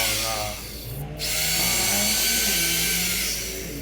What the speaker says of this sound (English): Then I drilled holes like this for